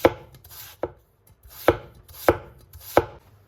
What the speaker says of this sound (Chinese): 接下来准备一个削过皮的土豆，改刀给它切成薄薄的厚片，切的时候尽量给它切薄一点。